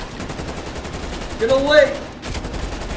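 Rapid gunfire from Call of Duty Cold War, a dense machine-gun fusillade of quick shots with a shouted voice over it, close and fairly loud.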